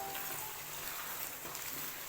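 Aloo palak, potatoes and spinach cooked in desi ghee or butter, frying in a pan while it is stirred: a steady, soft sizzle and crackle runs throughout at low volume, with no talking.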